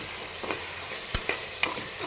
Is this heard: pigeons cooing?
no